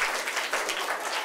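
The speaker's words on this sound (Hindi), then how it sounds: "जोरदार तालियां।" A crowd claps at a village gathering at a Buddha Vihar. The applause is a short, dense burst of hands, even and moderately loud, with no talking.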